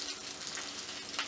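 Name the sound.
braciola meat roll browning in a pan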